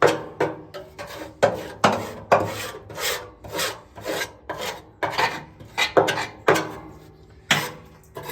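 Repeated rasping scrapes of a metal scraper pushing grease across the interior of a Lone Star Grillz pellet smoker, close and loud, in irregular strokes about once a second with short pauses between.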